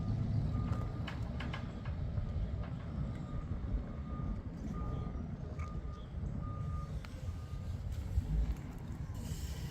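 A forklift's reversing alarm beeps repeatedly at a steady pace, moderately distant and fairly faint, over a low rumbling background of engine and shop noise.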